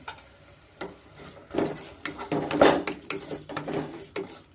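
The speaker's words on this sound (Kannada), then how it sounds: "ಮೀಡಿಯಮ್ ಫ್ಲೇಮಲ್ಲಿ ಚೆನ್ನಾಗಿ ನಾವು ಇದನ್ನು ಫ್ರೈ ಮಾಡ್ಕೊಳ್ಳೋಣ" Vegetables for vegetable bread pulao, with tomato and salt, frying over a medium flame as a spoon scrapes and clatters around the pan in irregular bursts, close and moderately loud, without talk.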